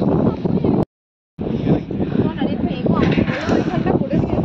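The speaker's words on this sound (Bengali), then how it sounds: "ভালো হাওয়া দিচ্ছে" Strong sea wind at Bakkhali beach buffets the microphone in loud continuous gusts, with a brief cut in the middle and faint voices mixed in.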